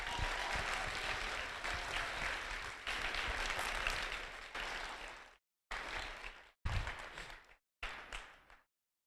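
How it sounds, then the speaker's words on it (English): Crowd applause for the judges at an FTC robotics league tournament award ceremony in Pollock, Iowa, sustained and fairly loud for about five seconds, then breaking into short choppy bursts separated by silent gaps. "Let's give the judges a big round of applause."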